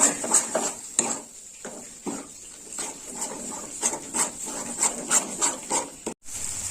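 Spice paste with five cloves being sautéed in a pan for dahi gobi, a yogurt cabbage dish: a steady close sizzle under repeated rhythmic metallic scrapes and clinks of a spatula stirring against the pan, with no talking.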